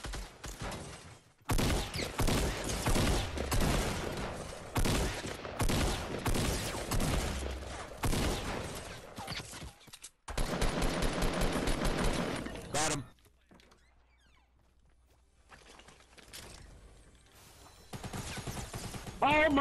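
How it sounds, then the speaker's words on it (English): Rapid bursts of gunfire from Fortnite Battle Royale crackle loudly in dense clusters, broken by a short gap and a quieter stretch before shots resume, with no talking over them. "Oh, I'm getting shot, bro."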